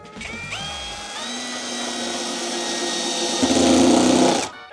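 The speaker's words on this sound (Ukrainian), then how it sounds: "Перша швидкість. Побачимо, чи спрацює трещітка." A Makita DA 20/13UBL cordless drill runs at first speed with its clutch set to 35, giving a loud, steady motor whine that rises in pitch, then a harsh rattling burst near the end before it stops abruptly.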